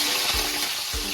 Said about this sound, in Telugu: ఫస్ట్ ఉట్టి కొత్తిమీర దీన్నే వేయించాలి